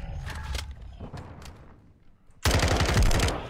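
Call of Duty gunfire crackles in scattered shots and short bursts, then a loud sustained volley of rapid fire erupts near the end.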